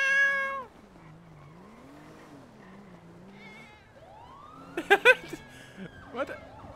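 Cats in a GTA 5 roleplay session meow in short, rising and falling cries, first loud and close, then fainter, with a brief siren-like wail and a few sharp clicks later on.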